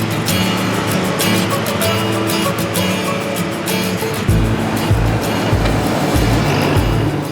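Road traffic on a city street, a steady wash of passing cars with engine rumble and a few heavier bassy vehicle surges near the end, no talk.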